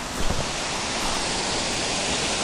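A waterfall on an Ohio creek pours in a continuous, loud, broadband rush of falling water, steady and close, with a brief splash near the start and no voices.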